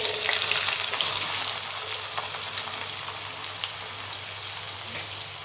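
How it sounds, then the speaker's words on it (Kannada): Onions sizzle and crackle steadily in hot oil in a pan, a dense, close frying hiss that runs throughout with slight stirring noises and no talking. "ಈಗ ಎಣ್ಣೆ ಕಾದಿದೆ. ಈಗ ಈರುಳ್ಳಿ ಹಾಕ್ತಿದ್ದೀವಿ"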